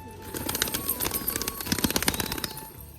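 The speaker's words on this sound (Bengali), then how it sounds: "পায়রাগুলোকে সব খাবার দিয়েছি পায়রাগুলো খাচ্ছে" Pet pigeons at home peck at food scattered for them, making a dense, rapid patter of sharp taps and clicks close by, with faint cooing mixed in.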